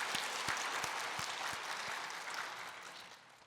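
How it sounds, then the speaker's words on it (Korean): A church congregation at Korean Sunday worship applauds in a dense, sustained burst of clapping with a few low rhythmic thumps underneath, fading gradually toward the end. "하나님께 영광의 박수 올려드립니다."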